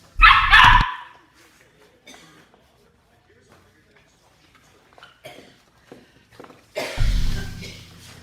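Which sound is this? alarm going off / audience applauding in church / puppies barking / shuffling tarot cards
puppies barking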